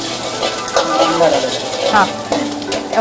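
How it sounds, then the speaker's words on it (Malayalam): Garlic with ginger sizzling in hot oil in a pan for Tibetan-style scrambled eggs, a steady moderate frying hiss with faint stirring scrapes and a voice talking over it throughout. "ചൂടായ പാനിൽ എണ്ണ ഒഴിച്ചതിന് ശേഷം ജിഞ്ചറും ഗാർലിക്കും ദീപക് സിർഫ് ഗാർലിക്."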